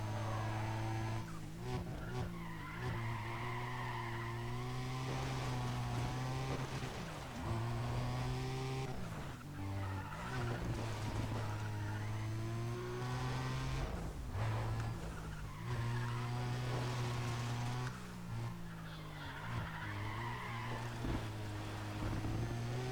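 A race car in Need for Speed ProStreet roars with a sustained engine drone, its pitch rising and falling through gear shifts, while tires skid and squeal repeatedly through corners, loud and continuous without talk.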